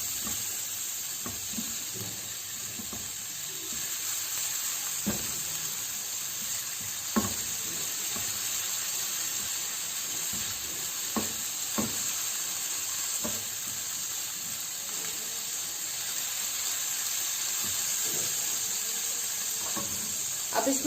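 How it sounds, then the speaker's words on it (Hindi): Ginger garlic paste sautés in leftover sausage oil in a skillet, giving a steady close sizzle and hiss with scattered scrapes and stirring knocks throughout, no talking. "तकरीबन 1 टीस्पून तक इसके अंदर मैं डाल रही हूँ अदरक लहसुन का पेस्ट। तो थोड़ा सा सौते करेंगे।"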